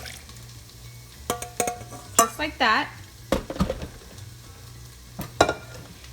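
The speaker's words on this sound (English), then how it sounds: "So just pour everything into the blender" Chiles and their cooking water are poured into a blender in a home kitchen, giving a few short splashy, clattering bursts between quiet stretches, with a voice speaking briefly.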